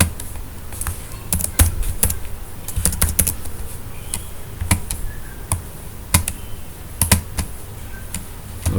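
Crisp keystrokes on a computer keyboard as a name is typed, arriving in irregular clusters and single sharp taps, close and clear against a faint steady hiss, with no talking.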